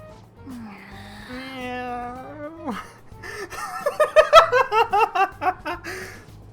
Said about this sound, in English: It meows when you press it on the head.